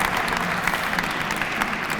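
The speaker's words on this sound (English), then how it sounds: "You guys give yourself a round of applause," Applause for young football players at a Glenville championship celebration, a steady dense wash of clapping from a crowd that holds at an even level for the whole two seconds.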